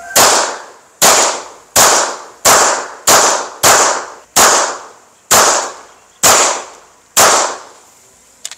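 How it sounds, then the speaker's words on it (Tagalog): Ten 9mm rounds from a CZ75 SP01 pistol strike the armored glass of an SUV: loud, close, sharp reports at a steady pace, each with a brief ringing decay, and no talking. "So, una natin gagawin is magshoot tayo ng 9mm gamit itong CZ75 SP01."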